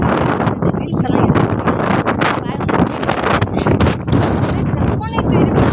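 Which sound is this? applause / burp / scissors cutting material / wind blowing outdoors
wind blowing outdoors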